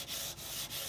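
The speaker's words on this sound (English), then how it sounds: "just go over it with a bit of fine sandpaper" Fine 320-grit sandpaper rubbed over wood by hand, three quick back-and-forth strokes giving a steady, close, hissing scratch.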